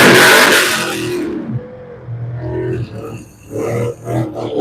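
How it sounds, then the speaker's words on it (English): A black Camaro drag car revs hard in the burnout box at a drag strip, a loud roaring burst that drops back to a lower rumbling idle with further short blips. "We got a Camaro, black Camaro in the left lane in the burnout box here"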